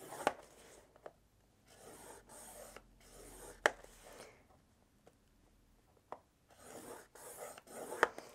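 A tool scores paper at half-inch intervals for a Halloween mini album, giving faint, quiet scratching strokes separated by short gaps, with a few sharp taps in between.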